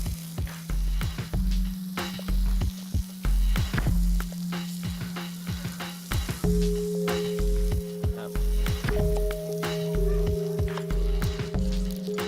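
Chicken cooking slowly in a frying pan over low heat, giving a steady gentle sizzle broken by repeated clunks and stirring knocks, with a faint tonal hum in the background.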